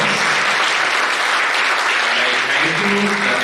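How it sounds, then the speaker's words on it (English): At the inauguration of a National Integration Camp, the audience gives a loud, sustained round of applause for the district commissioner, thick and continuous throughout. "I request our all audience to give him a big round of applause"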